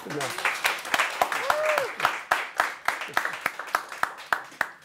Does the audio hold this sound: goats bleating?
no